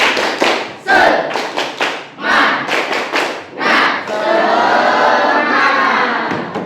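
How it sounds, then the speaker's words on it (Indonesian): An Indonesian primary class performs a tepuk semangat clapping chant, with quick rhythmic bursts of claps and children shouting along, then a sustained loud cheer and clapping to finish. "Ya, kita tepuk semangat ya, seperti biasa yuk."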